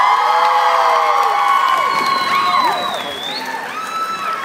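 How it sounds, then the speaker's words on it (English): A crowd with many children cheering, shrieking and clapping again to bring dancers onstage, loud and lively at first, dipping briefly midway before the whoops pick back up. "they don't want to dance unless they hear a lot of clapping and a lot of noise"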